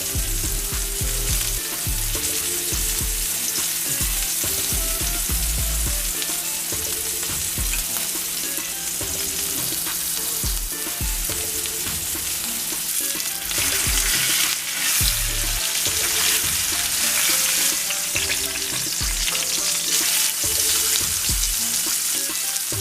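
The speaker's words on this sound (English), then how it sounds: "Don't forget to sear each of the sides of the ribeye" Ribeye steak searing in a pan, a loud sustained sizzle and spatter that runs unbroken for over twenty seconds, with occasional low thumps from handling and a steady background hum, no talking.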